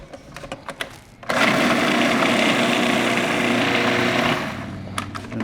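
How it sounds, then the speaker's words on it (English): A kitchen blender purees a blackberry mixture in one steady, loud whirring run of about three seconds, preceded by brief clinks and handling noises and tapering off as the motor slows. "I'm just going to puree this."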